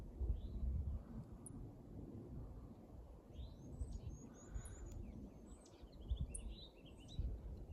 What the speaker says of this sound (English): You hear the birds? Spring is here.